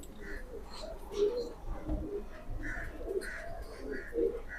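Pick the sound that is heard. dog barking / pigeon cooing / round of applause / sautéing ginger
pigeon cooing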